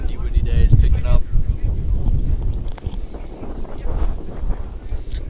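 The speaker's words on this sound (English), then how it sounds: "you can hear it. It is a windy day. It's picking up." Gusty wind buffets the microphone at an outdoor cricket match, rumbling low and loud in uneven bursts while a commentator talks over it.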